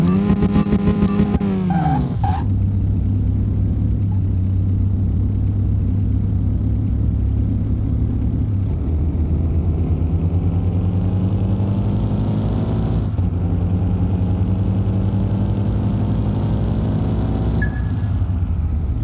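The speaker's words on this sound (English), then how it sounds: "So you want to hold the handbrake and throttle up." A race car engine in a video game revs hard at the start line with the handbrake held, a loud, steady droning roar that climbs and shifts in pitch several times, close and alone with no talk.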